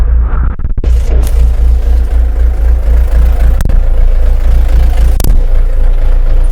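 A Kentavr 504 FC minitractor with a trailer hitched runs at a steady idle, a close, continuous low rumble with a few faint clicks and knocks over it.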